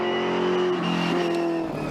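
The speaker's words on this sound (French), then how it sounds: "cette ambiance Ferrari, hein, le moteur qui miaule" A Ferrari 308 GTB engine revs high with a sharp, whining tone, holding steady then dipping and climbing again in quick shifts, loud and close.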